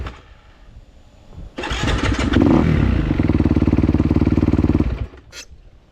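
Motorcycle engine cranks and catches, then revs hard as the clutch is popped in second gear for a wheelie, a loud close rasping roar with rapid firing pulses lasting a few seconds before cutting back to idle.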